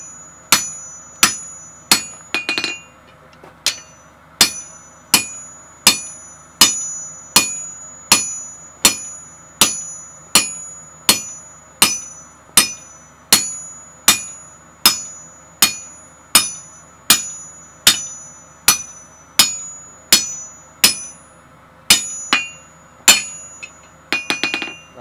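A hammer strikes hot steel on an anvil while punching a hole during forging of a flower bottle opener, giving a steady run of sharp, ringing metallic blows about once per second, close and loud.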